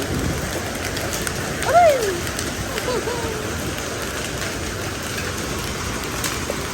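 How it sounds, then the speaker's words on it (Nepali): Rain and hail falling steadily in Hetauda, a dense continuous hiss with scattered sharper pattering impacts throughout and a brief whistling tone near the start. "हेटौडामा चाहिँ अहिले असिना पानी परिरहेको छ।"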